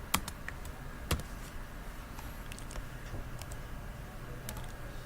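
Keys on a computer keyboard are tapped in scattered, light clicks with a few sharper strokes, close up against a quiet room background.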